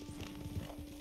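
A horse's hooves clip-clop in Red Dead Redemption 2, a short run of soft, muffled, evenly spaced steps with a slightly heavier thud at the end.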